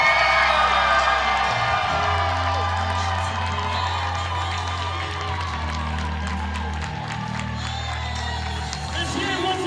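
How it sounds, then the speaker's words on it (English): An audience at a live stage play applauds and cheers, with dense clapping, whoops and crowd shouting sustained throughout at a strong, even level. "let's give it a nice, big, huge, welcoming, and live performance applause for Monique Rochon."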